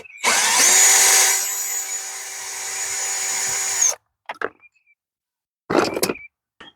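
A power driver unscrews a T20 screw from a truck seat during a seat cushion replacement, giving a loud, steady whir for several seconds that stops abruptly, followed by a few short bursts.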